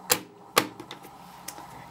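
Sewing machine bobbin case snapped back into place, giving two sharp close clicks followed by a few faint rattling taps.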